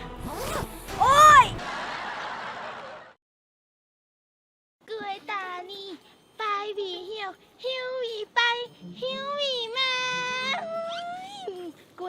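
A zipper pulled open in a few quick, scratchy, close zips near the start, followed by silence and then a voice talking and wailing.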